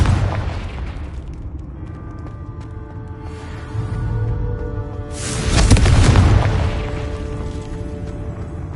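A Confringo spell explosion in a Hogwarts video game swells into a loud, rushing boom over a steady game backdrop of sustained tones, then fades back into the continuous ambience.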